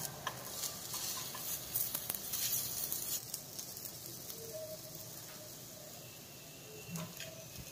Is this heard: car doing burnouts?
no